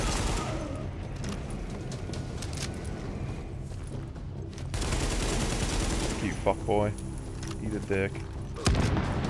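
In The Division, bursts of automatic gunfire and heavy blasts from grenade explosions rattle in rapid, dense volleys, with a voice briefly cutting in under the shooting.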